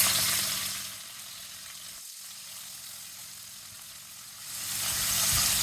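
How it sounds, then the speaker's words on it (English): Pork chops sizzle and fry in a hot pan, a steady hissing that dips quieter in the middle and swells again toward the end, close and without talk. "I'm just browning it."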